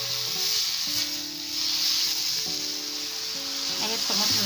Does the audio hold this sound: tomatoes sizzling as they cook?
yes